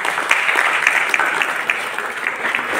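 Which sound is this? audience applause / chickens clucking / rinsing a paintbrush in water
audience applause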